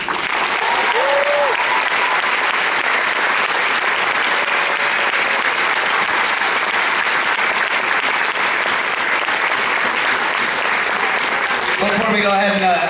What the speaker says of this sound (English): give these kids one more round of applause here